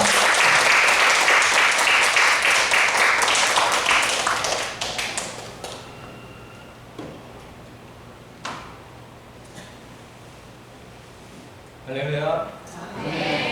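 A church lecture audience in Seoul claps to welcome a pastor who speaks on climate, a burst of applause over the first five seconds that fades to scattered taps and quiet, with a voice coming in near the end.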